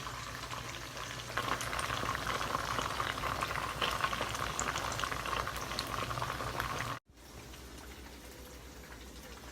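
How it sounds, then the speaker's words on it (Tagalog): Chicken wings deep-fry in hot oil with a dense, bubbling crackle that stays loud and steady, cuts out for an instant, then continues more quietly. "Ito na guys, yung piniritong chicken wings natin."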